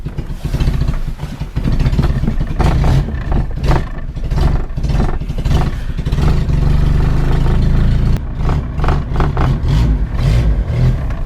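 A 1984 Opel Corsa A TR sedan engine runs after a cold start at about three degrees Celsius with the choke released, a loud, rough, uneven idle close to the car that rises and falls throughout.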